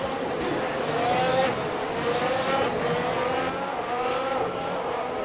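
Ferrari Formula 1 car engine in the Assetto Corsa racing game at the 2018 Italian Grand Prix, a loud sustained high-pitched whine that rises and shifts through gears with steady close onboard presence.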